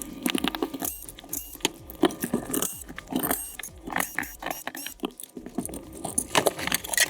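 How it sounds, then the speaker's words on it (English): Small metal parts clink and rattle as the transmission and differential are worked out of an Associated SC5M-based RC dirt drag truck, with busy irregular tapping and jangling close by throughout. "Let's get this transmission out and get that diff out."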